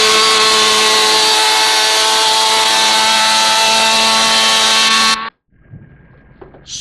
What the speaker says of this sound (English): Crosscut is brought to you in part by Steel Chainsaws.